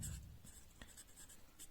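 Chalk or marker scratching on a board during a chemistry lesson, with soft repeated strokes and a few sharper taps, quiet and close with no talk over it.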